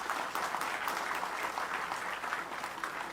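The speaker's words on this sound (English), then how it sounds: "Give yourself a round of applause." Steady, dense applause from a gathering of Guyana National Reserve ranks at a Christmas lunch at Base Camp Seweyo, sustained and even throughout with no talk over it.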